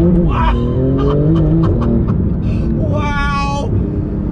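A Porsche 911 GT2 RS engine revs under throttle and its pitch climbs in rising sweeps, heard from close by in the cabin, with brief tonal squeals over it.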